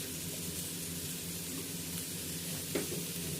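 Green chilies sizzle steadily in a hot pan for a soya vegetable pulao, an even close frying hiss with a single utensil scrape near the end and no talking.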